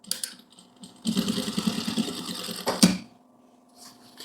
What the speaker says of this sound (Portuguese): Já levar tudo para a máquina e bora costurar.